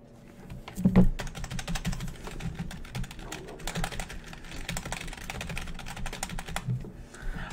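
Rapid typing on a computer keyboard, a fast continuous patter of key clicks that runs nearly throughout, with a louder thump near the start and the keystrokes close and fairly quiet.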